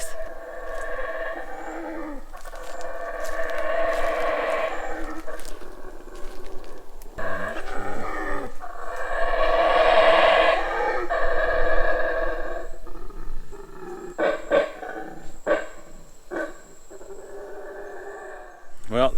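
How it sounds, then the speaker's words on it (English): Howler monkeys growling and roaring in the forest in Chiapas, Mexico, a loud, droning chorus that swells and fades in long waves, with sharper bursts toward the end. "listening to howler monkeys growl"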